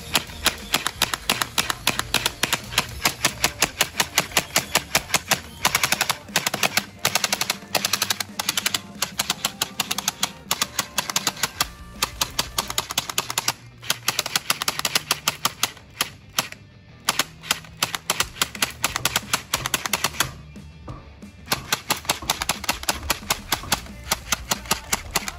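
Gel blaster toy gun fitted with two springs firing on full auto, long rapid bursts of sharp snapping shots close up, with brief gaps between strings of fire.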